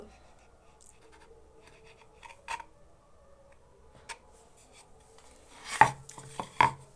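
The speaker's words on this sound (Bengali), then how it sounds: "ঘুরিয়ে দুটো মাথা থেকে কেটে সমান করে নেব" A knife cuts the ends off folded pitha dough in a quiet kitchen, giving a few sparse, crisp taps against the board, with two sharper cuts close together near the end.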